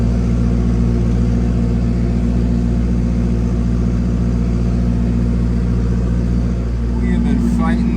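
Tractor engine running steadily in strong wind, a constant close low hum with buffeting rumble beneath, a voice talking over it.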